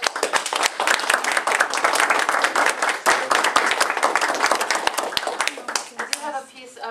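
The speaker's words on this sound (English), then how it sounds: "let's give him a round of applause" Audience applause fills the room after a talk by Captain Nelson Miner, a dense steady burst of many hands clapping that keeps going for several seconds before thinning out, with a few voices rising near the end.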